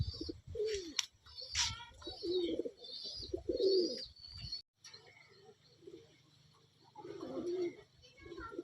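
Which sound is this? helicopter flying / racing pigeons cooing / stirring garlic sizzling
racing pigeons cooing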